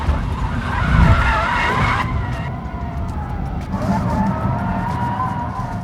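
A Hyundai Ioniq 5 N electric car drifts with its tires skidding in a loud, sustained squeal that wavers in pitch, easing briefly before rising again, heard close with engine-like synthetic hum underneath.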